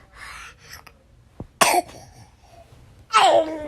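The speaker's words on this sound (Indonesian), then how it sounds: "Lagi batuk." A sick young child coughs in short, harsh bursts indoors: a brief cough near the middle and a louder, longer fit at the end, with faint breathy vocal sounds earlier.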